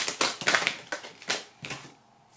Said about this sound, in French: On va essayer quand même de mélanger pour en avoir une autre.